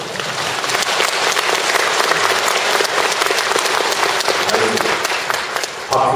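A large audience at a Korean Won Buddhist New Year's greeting ceremony applauds a dharma talk, loud, full and sustained clapping from many people that fills the whole stretch, easing slightly just before the end.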